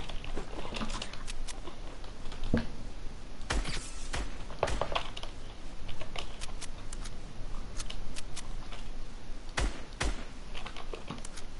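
Rapid, uneven keyboard typing with sharp key clicks and occasional louder thumps, steady and close throughout, no voices.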